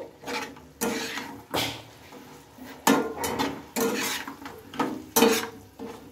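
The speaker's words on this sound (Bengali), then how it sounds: "অল্প একটু নেড়ে চেড়ে কিন্তু এটাকে নামিয়ে নিতে হবে" Bread fry stirred in a pan: repeated metallic scrapes and clinks of the spatula against the pan come in an uneven rhythm, close and clear over a faint sizzle.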